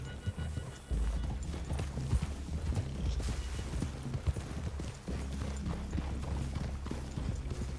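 Horses' hooves plod at a walk in a PlayStation video game, a steady, fairly faint clip-clop over a low outdoor ambience, with a short spoken line near the start.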